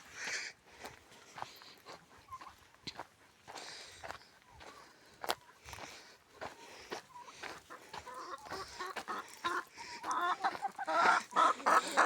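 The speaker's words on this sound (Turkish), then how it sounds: "Tavuğa bir bakalım. Feriklerimize bir bakalım mı?" Chickens cluck intermittently nearby in a garden, mixed with shuffling footsteps and rustling, growing busier and louder toward the end.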